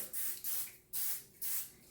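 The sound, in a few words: cooking spray sprayed on sides of baking pan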